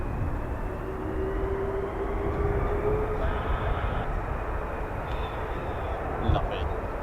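An F-35B stealth jet at an air station starts up for a ground run, its engine a steady, broad roar heard from a distance with a rising whine.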